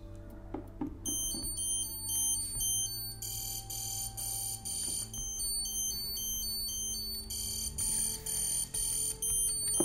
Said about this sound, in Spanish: La alarma está activada y si alguien mueve la bicicleta